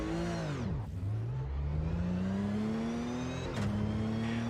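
A Porsche race car engine in the racing game Automobilista 2 on the Hockenheim circuit, revving hard and close, dropping sharply on a gear change and then climbing steadily again.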